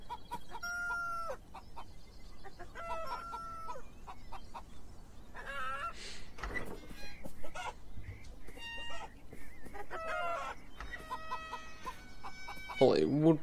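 Chickens cluck and a rooster crows repeatedly in a farmyard in the video game Beyond Eyes, a series of close, distinct bird calls spread across the stretch with quiet ambience between them.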